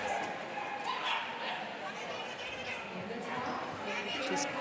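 A dog yips and whimpers excitedly at an agility jumping competition, under steady crowd noise and an ongoing commentator's voice.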